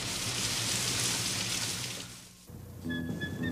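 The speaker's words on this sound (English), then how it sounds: "It's raining inside the store." Rain pours down inside a store, a loud, dense hiss of falling water that fades out midway before a brief tonal sound and renewed noise follow.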